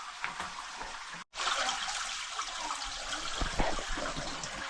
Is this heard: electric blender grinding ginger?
no